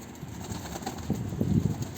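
A caught blue shawl-type pigeon gives soft, low cooing close by, with some rustling over a faint background hum.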